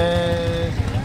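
A Zetor 360 3P tractor with a three-cylinder Perkins engine drives in, its engine a steady, close, loud droning hum with strong tonal harmonics that holds evenly throughout the brief moment.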